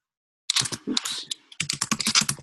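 Rapid keystrokes on a computer keyboard enter a card number, coming in two close, brisk bursts of clicking with a short pause between them.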